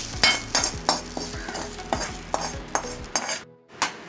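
Sliced onion dry-roasting in a pan for a Malvani prawn gravy, stirred with quick rhythmic scraping strokes about three times a second over a faint sizzle, then a brief pause before one last stroke.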